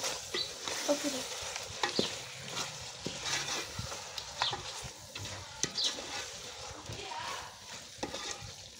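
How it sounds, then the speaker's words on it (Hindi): Tinda (round gourd) and chicken being fried together in ghee and masala, a busy crackling sizzle with frequent scraping stir strokes, close and continuous, with no voices. "ये टिंडे डाल देंगे हम अपने और इसे अच्छी तरह से भूनेंगे टिंडे और चिकन को।"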